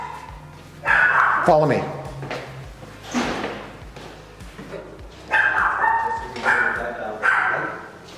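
Puppies at an animal shelter bark and yip in sharp bursts, with a whimpering whine among them, in a hard echoing kennel hallway while a person speaks briefly nearby.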